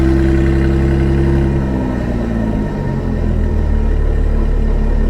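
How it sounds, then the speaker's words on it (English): A car engine revs and its exhaust note rumbles loud and close, with pitch rising then settling over a steady low drone; vehicle seen at a Copart salvage auction lot. "Come back here, get your little exhaust note."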